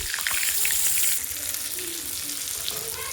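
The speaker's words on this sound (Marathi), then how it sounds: "आता टाकूयात वांगे। वांगे तेलामध्ये छान घेऊयात वाफून।" Brinjal pieces hiss and crackle in hot oil with mustard seeds in a pan, a loud steady sizzle that eases slightly after the first second.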